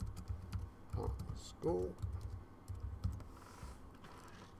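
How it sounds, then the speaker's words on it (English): Keys clatter on a computer keyboard in short bursts while someone enters the first line of an address, with a voice speaking briefly over the typing. "Let's type"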